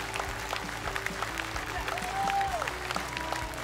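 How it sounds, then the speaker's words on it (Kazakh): A studio audience at a televised children's singing competition applauds as a young contestant leaves the stage, the steady clapping heard with some crowd noise and a voice over it. "Ду қол шапалақпен Арсенді кәнеке сахна артына шығарып салайық"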